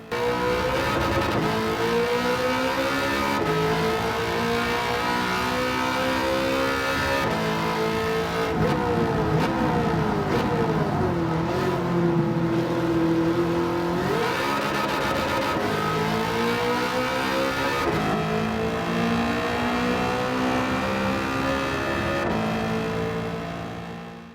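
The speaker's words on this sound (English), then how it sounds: "the Pontiac Firebird Trans Am. Capable of 995 horsepower" A 995-horsepower Pontiac Firebird Trans Am engine revs in Gran Turismo 7, loud and continuous, its pitch climbing and falling through repeated gear changes with a brief dip near the middle, no voices present.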